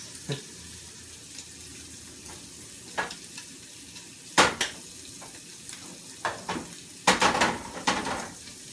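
An egg frying in a pan for an omelet: quiet background sizzle broken by several sharp clinks and scrapes of utensils against the pan, close and intermittent.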